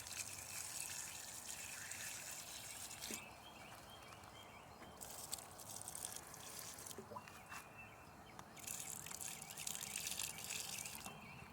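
Dry Better Bush and Celebrity tomato plants get watered, with a quiet hissing spray that comes in long bursts and breaks off, then resumes.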